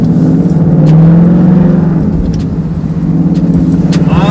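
A wrecked budget Ford Mustang GT's V8 engine drones loud and close while driving, holding a steady throaty rumble with a slight swell in revs, and no talking.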